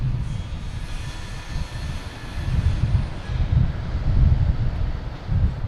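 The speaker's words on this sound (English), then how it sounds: "next taking off, we have United Airlines Flight 414 heading to Denver" A United Airlines Boeing 737 MAX 9 taking off from Boston Logan Airport, a loud, low, rumbling engine roar that builds and pulses as it rolls, with no talking.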